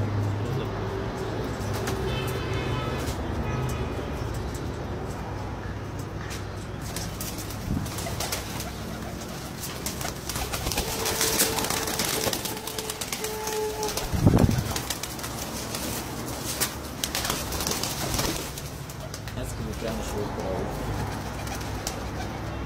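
Pet pigeons kept by a household fancier coo in low repeated bursts, with bursts of wing flapping, under ongoing background noise and occasional voices.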